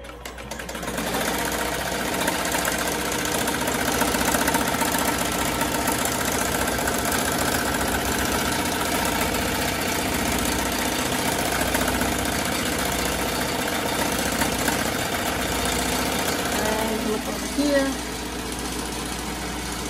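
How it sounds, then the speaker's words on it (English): A Melco EMT16X embroidery machine stitches at about 900 stitches per minute, making a steady, loud, fast mechanical whirring with a rhythmic low thump that runs continuously and changes slightly near the end. "Stitching 900 stitches a minute right now."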